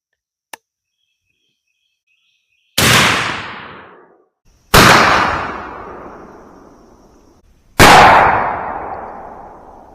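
Three loud, separate blasts from a 12 gauge shotgun firing Federal Flitecontrol #00 buckshot, each with a long fading tail, spaced a couple of seconds apart after a small click.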